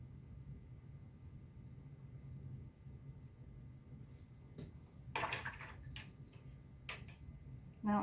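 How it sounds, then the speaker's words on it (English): A paintbrush is rinsed in a water container while painting pink tree peonies: low sloshing and swishing, then a few brighter clinks and taps of the brush against the jar near the end, close and quiet. "Now I'm just going to rinse and soften the edge here"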